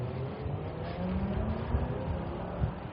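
A Chevrolet Corvette sports car engine passing on a Toronto street, heard from a bicycle as a low, fairly distant engine drone that swells slightly, mixed with road and wind noise.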